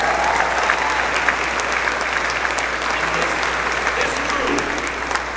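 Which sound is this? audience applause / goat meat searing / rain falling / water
audience applause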